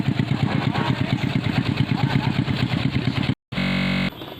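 A motorcycle engine idles close by with a fast, regular pulsing chug, then cuts out for a split second and returns as a smoother, steady hum.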